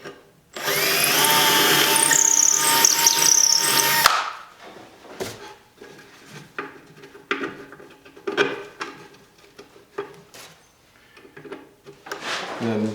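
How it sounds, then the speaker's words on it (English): A power drill bores through a wooden inset drawer face for mounting hardware, a loud close whine lasting a few seconds, followed by quieter clicks, knocks and handling of the wood. "then I'll drill through the appropriate size for my mounting hardware."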